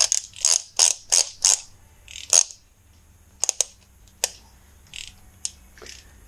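A wrench clicks in short ratcheting bursts while bolts are torqued in sequence on a 2005 Kawasaki Ninja 250 engine rebuild, with several close, sharp clicks, a pause, then scattered single clicks.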